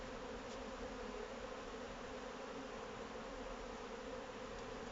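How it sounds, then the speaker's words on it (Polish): Agitated honey bees buzz during a honey harvest from the hive, a faint but unbroken drone that holds level throughout with no voices over it. "Pszczoły bardzo wariują."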